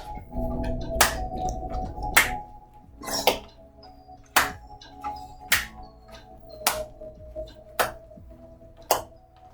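Hands clap in a steady aerobics march, roughly ten sharp, evenly spaced claps about a second apart over faint background sound.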